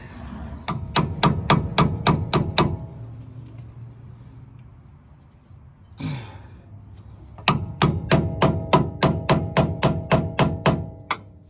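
Sharp metallic hammer strikes on a long flathead screwdriver in two quick rhythmic bursts of about eight to ten taps each, separated by a pause with a brief scraping rustle, while removing a 2006 Dodge Dakota lower intermediate steering shaft.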